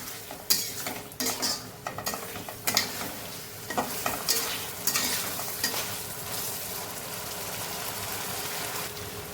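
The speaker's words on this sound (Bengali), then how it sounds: "চিংড়ি মাছটা দিয়ে আমি বেশ খানিকক্ষণ একটু ভাজা ভাজা করে নেব।" Prawns frying and being stirred in a pan: a steady sizzle with irregular scrapes and clinks of a spatula against the metal, close and moderately loud, with no talking.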